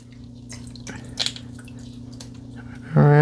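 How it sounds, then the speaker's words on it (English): Homemade butter squeezed by hand, giving wet squishing and dripping as buttermilk runs out, close and fairly loud, with a steady hum underneath and a louder splash at the end. "as you can see, I'm squeezing the butter, and it's squeezing out a lot of that buttermilk"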